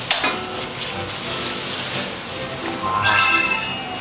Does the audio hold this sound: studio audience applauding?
no